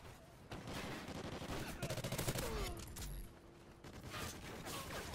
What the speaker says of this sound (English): No, stop shooting me in the back